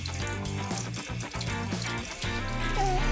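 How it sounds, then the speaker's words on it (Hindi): Water runs and splashes steadily into a pets' pool, a continuous bright pouring rush that holds level throughout without any voices. "पानी डालेंगे।"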